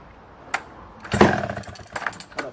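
A vintage Clinton D65 Super American chainsaw with a 95cc engine sputters in a few irregular, rough bursts and pops at close range instead of a steady run.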